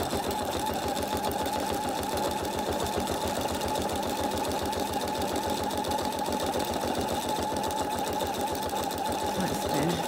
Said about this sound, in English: So just helping myself a bit with my stitching all the way around the outside first